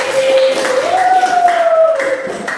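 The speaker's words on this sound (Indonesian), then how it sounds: "tepuk tangan untuk kalian" Students in a school session receive clapping from the room, a brief patter of hands running steadily beneath a sustained, gliding voice-like tone.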